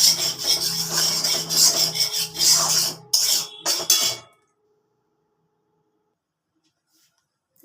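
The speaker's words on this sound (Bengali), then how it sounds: "সাদা তিলটা একটুখানি ঘুরিয়ে নিচ্ছি, আধা ভাঙা করে নিচ্ছি" A mixer grinder whirs in several short pulses as it grinds white sesame seeds into a coarse meal, loud and close, with brief stops between bursts before it cuts off into silence.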